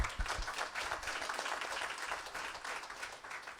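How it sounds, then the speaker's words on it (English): Applause follows a Carnatic music recital, a faint, steady patter of many hands clapping from start to finish with no talking. "A round of applause to you all."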